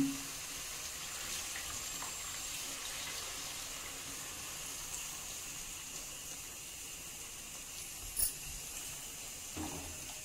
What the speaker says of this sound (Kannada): ಇದಕ್ಕೆ ನಾನೀಗ ಹುಣಸೆ ಹಣ್ಣಿನ ನೀರನ್ನು ಸೇರಿಸ್ಕೊತಾ ಇದ್ದೀನಿ.